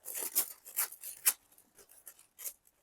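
Scissors cut a piece out of paper while hand-painting furniture, giving a quick run of close, crisp snips and rustles that thin out into a few softer cuts.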